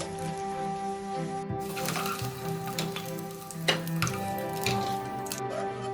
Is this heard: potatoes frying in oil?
yes